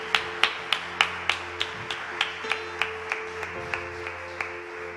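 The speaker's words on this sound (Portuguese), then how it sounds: "Aplauda Jesus nesta noite." Steady rhythmic clapping from a church congregation during a worship service, evenly spaced claps about every third of a second over sustained organ or keyboard tones, no talking.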